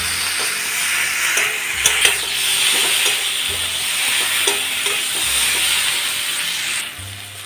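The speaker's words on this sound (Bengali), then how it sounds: "পটল আর আলু কষানো হয়ে গেছে," Pointed gourd and potato frying in a pan, with a steady sizzle and hiss throughout and a few soft scrapes of stirring.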